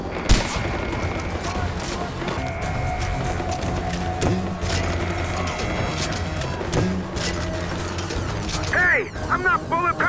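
Gunfire and mechanical clatter from the video game Far Cry 4 fill the scene, dense bursts and sharp shots over a busy background. Shouted voices cut in over the fighting.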